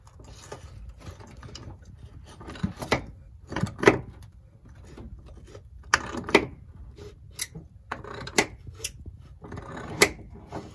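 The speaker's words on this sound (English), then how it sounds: "my wife is up there working the socket wrench to try to loosen this thing up" A socket wrench works at bolts holding seats inside a shuttle bus being converted, giving irregular metallic ratcheting clicks and clunks in short bursts with pauses between, fairly close and fairly loud.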